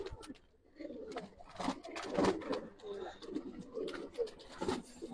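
Old generation gribaz pigeons cooing in repeated soft, throaty bursts at close range, with rustling and light movement around them.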